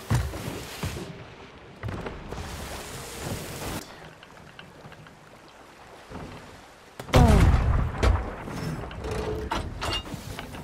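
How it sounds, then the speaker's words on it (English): Ship cannons fire during a naval battle in the pirate game Sea of Thieves, with loud booming blasts and a large impact around the middle, over wind, creaking and water noise. "Use the cannon on the left."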